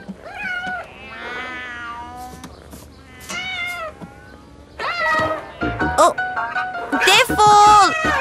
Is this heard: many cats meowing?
yes